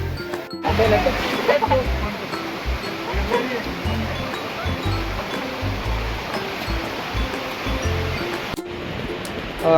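A river flows near Kalu waterfall in a jungle, giving a steady, broad rush of running water close by, with low thumping handling noise and brief gaps.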